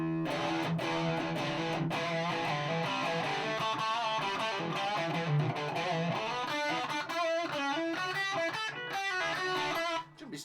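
Electric guitar through a heavily distorted Marshall MG30DFX amp, playing chugging chords and riffs, loud and close, with no voices.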